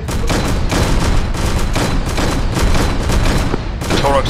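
Rapid gunfire in a video game firefight, loud bursts of automatic fire and repeated shots in a dense, nearly continuous volley, with a brief tonal sound near the end.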